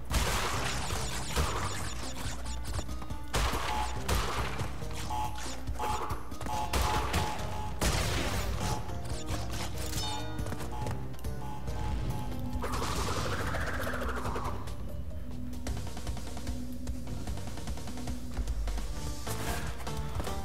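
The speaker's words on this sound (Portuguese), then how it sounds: "o macaquinho me acertou o tiro ali" Gunfire from a monkey enemy in the Egyptian world of Crash Bandicoot 3 N. Sane Trilogy, heard as a steady, loud wash of game shots, crashes and effects with dense music throughout.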